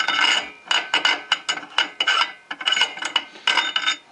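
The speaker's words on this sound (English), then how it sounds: "now I get to find out if my clutch puller tool that I have will work on this clutch." A clutch puller tool worked on the clutch of a 2008 Yamaha G29 golf cart makes close, rough metallic rasping and scraping in quick irregular bursts, with brief pauses between groups.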